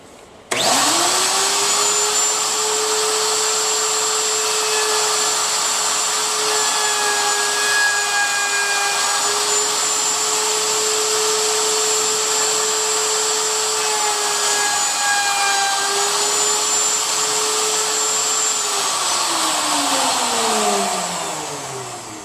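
A router spins up on a router table and cuts across the end of a wooden board, holding a steady, loud high whine for about twenty seconds before winding down at the end.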